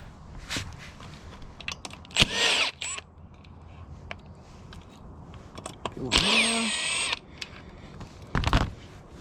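A power tool unscrews the impeller on a 2022 Sea-Doo Spark Trixx jet ski in short, close whirring bursts, with clicks and handling noises in the pauses between them.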